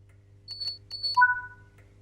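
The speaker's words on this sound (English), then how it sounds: "The guard has given you the clearance for departure by giving you 2 audible beeps from the NHA guard compartment." Train Sim World guard compartment signal on a train: a few short electronic beeps followed by two longer tones, clean and close against a quiet low cab hum, no talk.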